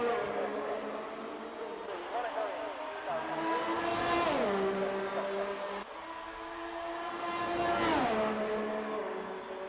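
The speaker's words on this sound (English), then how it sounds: "Here we are on board with the Ferrari here at Monza, the Temple of Speed" A Ferrari Formula 1 car at Monza in a racing video game screams through its gears, pitch climbing in two long revving sweeps, each ending in a sharp drop at the shift. The engine is loud and close, as from onboard.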